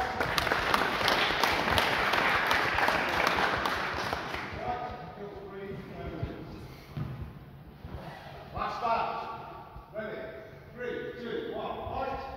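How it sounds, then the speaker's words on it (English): Audience applause at an open longsword tournament final, a dense wash of clapping for the first four seconds that then thins into scattered claps and chatter, with people talking over it. "Clapping it? Are we clapping?"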